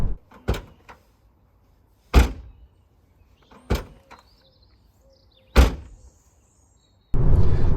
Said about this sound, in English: When you close the boot lid,